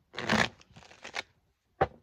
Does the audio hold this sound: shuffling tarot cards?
yes